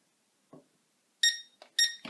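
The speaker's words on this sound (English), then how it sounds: "It'll beep a couple times telling you it's in headless" Two short, bright electronic beeps in quick succession from a Syma X13 Storm drone controller entering headless mode, close and clear, after a faint low thump.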